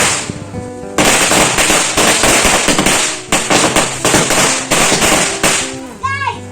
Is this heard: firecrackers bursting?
yes